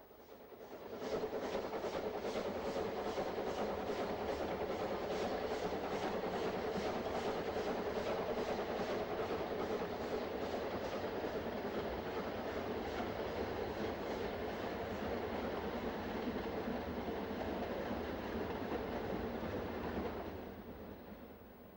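A 1920-built 0-6-0 tank locomotive hauls a narrow gauge steam train toward the Brocken, its steady rolling and rhythmic wheel clatter running continuously at a distance, fading in and out at the ends.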